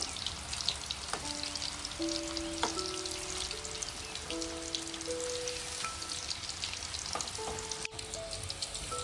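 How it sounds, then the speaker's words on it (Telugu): Chicken with pepper powder fries in a pan, giving a faint, steady crackling sizzle throughout, with soft melodic tones playing quietly in the background. "ఇదంతా లైట్ బ్రౌన్ వచ్చే వరకు ఫ్రై చేస్తూ ఉండాలి"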